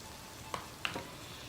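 Tomato paste frying in one to two tablespoons of vegetable oil over medium heat gives a faint, steady sizzle, with a couple of soft stirring clicks.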